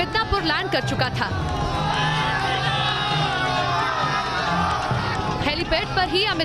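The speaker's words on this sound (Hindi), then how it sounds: "हेलीपैड पर ही अमित शाह को देखने लोगों की भीड़ मौजूद थी।" A dense crowd gathered at a helipad in Midnapore, West Bengal, to see Amit Shah, with steady loud cheering, whooping and shouting voices blending into a continuous roar throughout.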